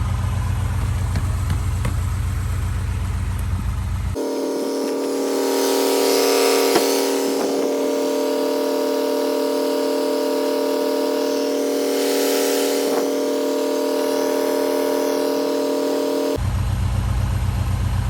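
A Honda car engine idles steadily while its compression is used as an air compressor to fill a flat tire, a constant close hum with a raised, filtered tone through the middle section.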